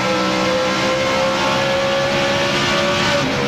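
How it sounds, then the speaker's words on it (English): A NASCAR Winston Cup race car engine roars continuously at high revs at Rockingham, loud and close, with a steady droning pitch and no pauses. "I love to hear that engine."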